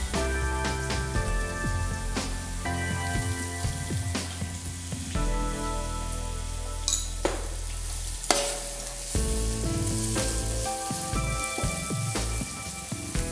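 Onions frying in a pan for a Kerala-style prawn biryani, sizzling steadily and loudly throughout while being stirred, with occasional scrapes and clinks from the utensil against the pan and no talking.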